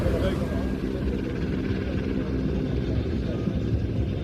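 A helicopter hovers at the International Ayr Show Festival of Flight 2025, its rotor giving a steady, loud broadband thrum and rumble that stays constant throughout.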